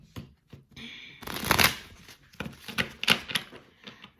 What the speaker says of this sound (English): Shuffle these cards.